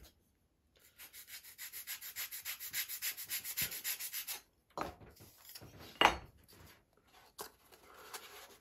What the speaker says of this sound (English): I'll just cut some or shave some off with the sanding bar.